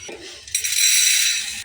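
Dried pea dal is poured into a metal pressure cooker, a brief clink followed by a sustained bright rattling pour of grains lasting about a second, close and loud.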